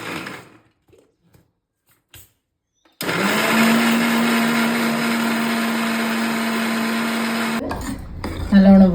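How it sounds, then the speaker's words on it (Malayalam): A kitchen mixer grinder grinding roasted coconut, starting abruptly after a few quiet seconds with soft handling noises, then a loud steady whirring hum that runs for several seconds before cutting off, followed by brief clattering. "വറുത്ത തേങ്ങ അരച്ചെടുക്കാം."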